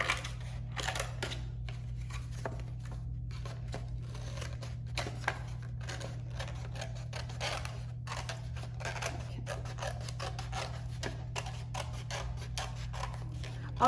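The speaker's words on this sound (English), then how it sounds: "So we're gonna cut that out." Scissors cutting through craft kit paper, a string of soft crisp snips and rustles continuing steadily for several seconds over a low hum, faint and close, with no talking.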